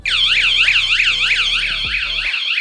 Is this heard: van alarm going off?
yes